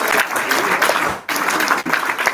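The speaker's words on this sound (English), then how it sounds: "let's give him a round of applause" An audience at a luncheon gives a guest a round of applause, with steady clapping that dips briefly twice before carrying on.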